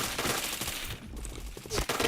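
Rapid automatic gunfire in the shooter game Point Blank, dense and loud, with bursts of shots crowding together across the whole moment.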